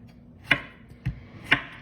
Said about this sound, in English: all I have to do is finish chopping these